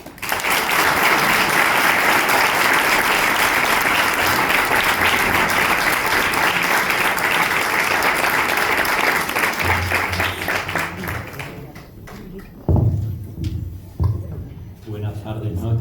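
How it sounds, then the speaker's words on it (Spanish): Dense audience applause at a conference talk in Spanish fills the room for about twelve seconds, loud and steady, then thins to scattered claps as the speaker begins talking. "Recibámoslo con un fuerte aplauso."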